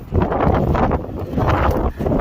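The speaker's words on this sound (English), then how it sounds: "it's very windy, but I'm getting it done" Strong wind buffets an open coastal lookout at Land's End, roaring in loud, gusty surges that rise and dip against the microphone with no clear voices.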